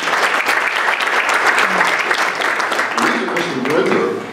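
Audience applause at a mayor's forum in a library, a dense, sustained burst of clapping from a crowd that runs throughout, fairly loud and close, with a voice faintly beneath it.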